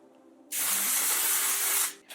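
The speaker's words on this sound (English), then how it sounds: "we're gonna go ahead and spray all of this." A single continuous burst of hair spray misted onto styled glam waves, a close, bright hiss lasting over a second, then a brief second puff after a short pause.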